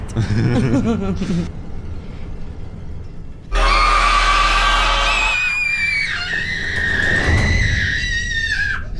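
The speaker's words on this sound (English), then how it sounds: "She screamed so loud it hurt my ears." Loud, shrill woman's screams in a horror TV series, several sustained wavering shrieks with a heavy low rumble underneath, filling the whole stretch with no speech.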